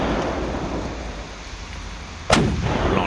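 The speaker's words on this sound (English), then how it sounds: "So you got to get good at the motion of loading up the cannon" A pirate-style cannon fires once with a sharp loud boom that breaks through steady background rumble like rain, then lingers briefly as a rolling echo.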